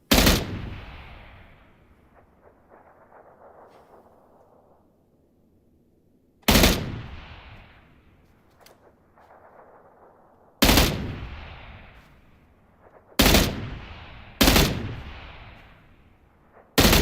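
Sharp, loud gunshots in PUBG come in an irregular pattern: one opening crack, a long echoing pause, then four more shots in quicker succession, each trailing off into a rolling reverberant tail.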